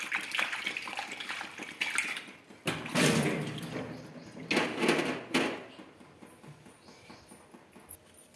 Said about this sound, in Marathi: धुवून घेते टोमॅटो.